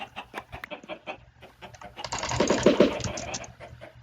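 Minecraft chickens clucking in minecarts inside a block-built contraption, a string of short clucks that thickens into a louder cluster near the middle, mixed with sharp clicking sounds.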